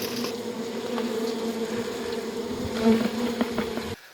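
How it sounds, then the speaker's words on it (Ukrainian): Honeybees buzzing at a hive outdoors, a steady close drone with individual bees whizzing past now and then, continuous throughout before cutting off at the end. "Наші бджоли заспокоїлися, вони тепер не агресивні, веселі"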